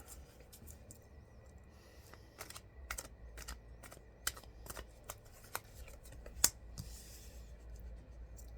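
Tarot cards are shuffled and laid down in a quiet room: soft, irregular riffling and sharp slapping clicks, faint and close, scattered over several seconds.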